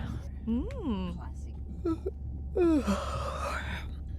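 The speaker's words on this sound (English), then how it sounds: "Was that a yawn?" A character in the underwater game Beyond Blue gives a long drawn-out yawn, then a short breath and another gasping exhale, close and quiet over a low hum.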